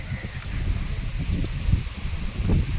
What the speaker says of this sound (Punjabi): ਹੁਣ ਹਵਾ ਚੱਲ ਗਈ